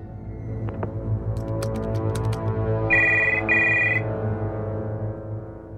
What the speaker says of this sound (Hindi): ये देखिए उस्ताद उलमा का भी फोन आ गया है।